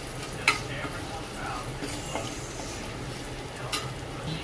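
Shevli wild vegetable added to a sizzling tempering with garam masala, a steady close sizzle with a few brief clinks of a spoon against the pan.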